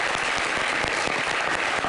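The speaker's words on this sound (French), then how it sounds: "Je pense que ça peut s'applaudir." Applause for an honoured guest on a comedy show, a loud, continuous burst of clapping from an audience filling the whole moment.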